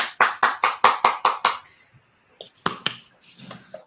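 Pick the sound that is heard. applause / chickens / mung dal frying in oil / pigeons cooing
applause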